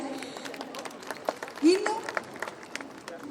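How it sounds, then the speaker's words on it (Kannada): Crowd applause at a Kannada film event unveiling the Appu Cup Season 2 trophy for actor Sri Murali, brief clapping under a speaking announcer's voice, with a short swell of cheering. "ಶ್ರೀ ಮುರಳಿ ಸರ್ಗೆ ಒಂದು ಜೋರ ಚಪ್ಪಾಳೆ"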